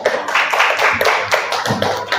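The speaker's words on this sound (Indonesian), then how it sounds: "Tepuk tangan." Classroom audience clapping after a group presentation about a meatball soup business, a fast uneven patter of many hands with irregular accents, close and steady throughout, with no talking over it.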